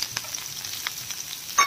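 Garlic cloves and dried red chillies frying in oil in a pan, a soft steady sizzle with a few light stirring scrapes and a louder clack near the end.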